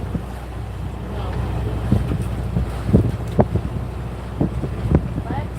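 A sailboat motor sailing toward a new anchorage in Fiji, a low steady engine drone under wind buffeting the microphone, with occasional thumps and bumps close by.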